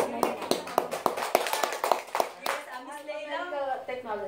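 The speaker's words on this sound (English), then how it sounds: "Give a round of applause." A small seminar audience claps for an attendee in a run of distinct, fairly quick claps lasting a couple of seconds, after which a voice starts talking.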